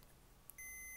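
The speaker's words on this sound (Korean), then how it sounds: "벨이 울리고 부저가 울리고" A single electronic buzzer beep from a multimeter continuity test starts abruptly and holds steady, thin and high-pitched, after a moment of near silence.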